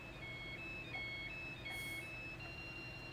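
A phone rings repeatedly in a cartoon episode, a thin electronic ringtone melody repeating over a low background hum, fairly faint.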